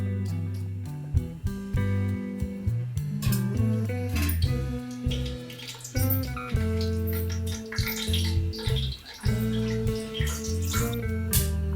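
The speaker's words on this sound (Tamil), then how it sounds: "இப்போ எண்ணெய் நல்லா காஞ்சிருச்சு. எடுத்து வச்சிருக்கிற ஸ்பைசஸ் எல்லாம் போட்டுக்கலாம்." Whole spices hit hot oil for chicken biryani and crackle steadily up close, a busy sizzle with sharp pops that runs throughout.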